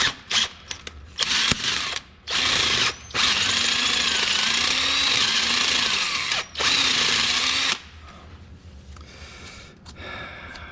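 A power drill bores out a broken bolt on an 1855 tractor's PTO during restoration, a loud high whine running in several bursts with brief stops, then dropping to quieter low rumbling.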